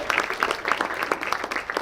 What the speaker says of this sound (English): Quick round of applause for them there.